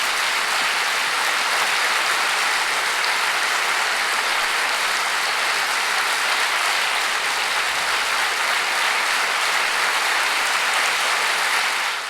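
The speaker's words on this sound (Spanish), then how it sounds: "entre una calurosa ovación del público del Gran Teatro" A theatre audience gives a warm ovation, with dense, sustained applause that stays loud and even throughout, unbroken by speech.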